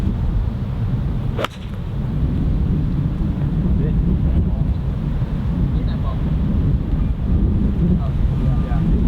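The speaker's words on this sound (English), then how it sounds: "There's a lot of wind though." Strong wind buffets the microphone on a golf course, a steady low roar running throughout with one sharp crack near the start, likely a club strike.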